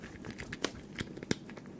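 Several sharp crunches close by, three louder bites spaced about a third of a second apart, with faint crackly chewing in between.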